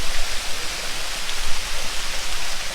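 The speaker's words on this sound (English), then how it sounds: "This is the third fountain in Saheliyon ki Badi. It's called the Sawan Bhado fountain" Water from the Sawan Bhado fountain in the Saheliyon ki Badi garden, Udaipur, falls in a steady, dense hiss like heavy rain, constant and close with no voices.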